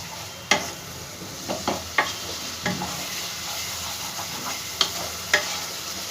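Ground spice paste for a vegetarian potol (pointed gourd) curry sizzles in a pan on a medium gas flame, a steady frying hiss broken by several sharp scraping stirs, close and without speech.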